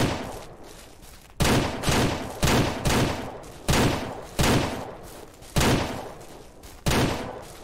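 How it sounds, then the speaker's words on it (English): Rifle shots fired while hunting bucks in Ranch Simulator, a video game: about eight loud, sharp reports at irregular intervals, each followed by a decaying echo, with no talk. "I'm gonna try doing a sniper shot."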